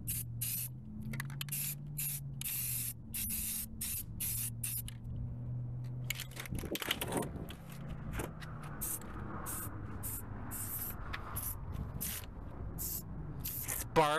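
Aerosol spray paint hisses in repeated short bursts onto vehicle wheels, close and steady, with brief pauses between each spurt and a low hum beneath.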